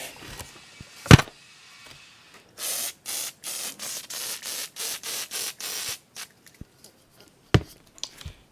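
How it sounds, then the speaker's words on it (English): WD-40 sprayed onto the roof of a 2006 Niagara RV in about nine short, evenly spaced hissing bursts, close and loud, bracketed by a couple of sharp knocks before and after. "Now, I've heard about using WD-40 in cases like this"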